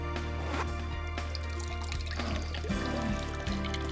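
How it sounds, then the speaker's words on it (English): Urine trickles into a toilet bowl as a steady, quiet stream of running liquid over a constant low background hum, with no voices. "Begin urinating into the toilet."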